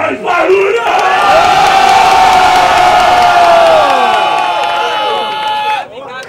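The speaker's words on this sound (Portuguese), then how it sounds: "Quem discorda e acha que meu mano B13 levou esse round? Faz barulho" A large crowd at a Brazilian rap battle final roars and cheers loudly and continuously for several seconds, with whoops and shouts rising over the noise before it briefly drops off near the end.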